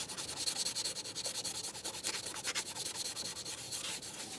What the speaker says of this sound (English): Let's make sure we clean down the area on the EGR valve with some sandpaper.